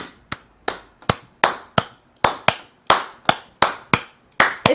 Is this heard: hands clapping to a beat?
yes